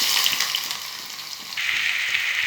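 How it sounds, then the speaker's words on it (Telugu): Onions drop into heated oil and sizzle with a bright, steady hiss that grows louder partway through, close and continuous. "ఇప్పుడు మనం ఉల్లిపాయలు వేద్దాం"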